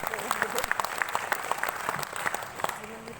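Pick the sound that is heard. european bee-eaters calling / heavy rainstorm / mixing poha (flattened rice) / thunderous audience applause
thunderous audience applause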